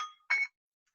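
Phone ringtone melody chiming faintly during a talk on leadership, a couple of brief tonal notes within a second, then near silence.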